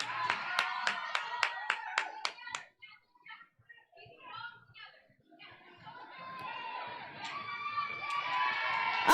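A roller derby crowd claps in a quick run of sharp, evenly spaced claps, then breaks into cheering, shouting and chatter that swells toward the end, with an announcer talking over it.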